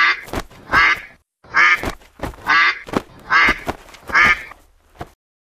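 A cartoon duck in an animated fairy tale quacks loudly and repeatedly, about six rhythmic nasal quacks in quick succession with short gaps between them.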